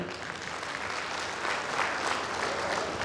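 An audience at a ceremony applauds warmly, a continuous, moderately loud wash of many hands clapping that swells slightly midway and carries on steadily to the end.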